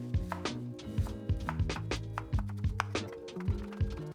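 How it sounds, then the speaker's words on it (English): A knife chopping vegetables on a board, a series of quick, close taps in an uneven rhythm over a background of steady tones. "Now I'm done with all my chopping with all my veg"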